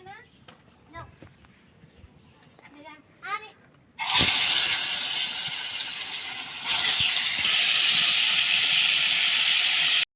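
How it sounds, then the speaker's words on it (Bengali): Pangas fish dropped into hot oil in a kadai sets off a sudden loud, hissing sizzle that keeps roaring close by; a person speaks quietly just before the fish goes in. "এখন আমি মাছটা ভেজে নেব।"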